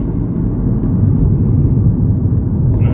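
Cabin drone of a Mini F56 JCW with resonator delete cruising at 35 mph in fifth gear, a steady low engine and road rumble, smooth and unchanging.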